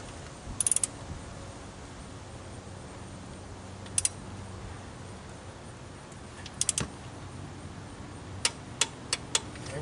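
A torque wrench tightens a car bumper bolt to 35 foot-pounds, giving a few faint, sharp metallic clicks in small clusters over a quiet hum, with a final quick run of clicks near the end.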